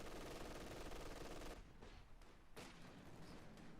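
Rapid machine-gun bursts from an MG in a competitive World War II real-time strategy skirmish, a dense continuous rattle for about a second and a half, then sparser scattered shots and distant explosions.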